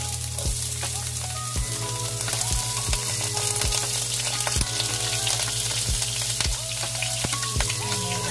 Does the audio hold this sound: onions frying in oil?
yes